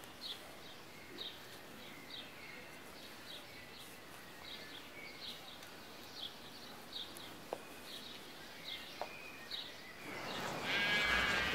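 Sheep grazing on a meadow near Hauenstein in the Palatinate in late May bleat now and then at a distance, with scattered bird calls and a steady outdoor ambience that rises near the end.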